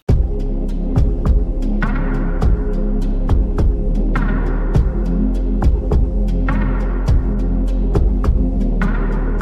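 A looping electronic beat with a deep, booming kick drum pulsing steadily under a low humming synth bass and sharp hats.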